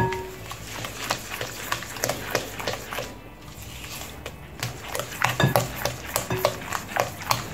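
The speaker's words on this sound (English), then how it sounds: "So now I'm going to mix everything." Ingredients for soft banana bread, including sugar and salt, being mixed in a bowl, with repeated scraping and tapping strokes of a utensil against the bowl in an uneven rhythm, close and moderately quiet, with no talking.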